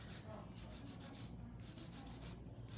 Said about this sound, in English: But with our hand filer,